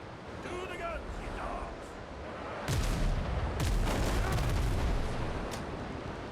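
Heavy ship cannon blasts boom in a quick cluster in the video game Windrose, with deep rumbling explosions, over a churning background of water and ambient noise.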